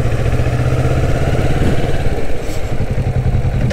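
A Kawasaki Vulcan S motorcycle rides at around 25 km/h and brakes to a stop, producing a loud, close, steady engine drone with a throbbing low rumble and light mechanical clatter. No one talks.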